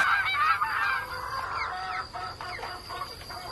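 Geese honking loudly on a poultry farm with other fowl such as chickens, a busy overlapping flock calling continuously close by.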